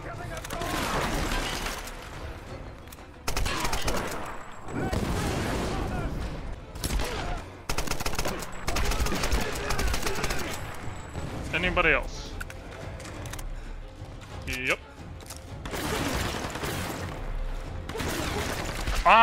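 Bursts of rapid gunfire in the video game Tomb Raider, broken by metallic reloading clicks and pauses, with a person talking intermittently over the chaotic firefight.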